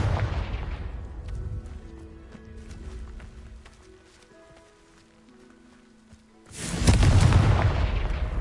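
A Confringo fire spell blast in the Hogwarts Legacy video game, a loud, deep burst arriving near the end after a quieter stretch of rumbling game sounds and faint tones.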